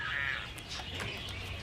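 Birds calling in a film comedy scene, with a few short cries rising over a steady background, fairly close and moderately loud.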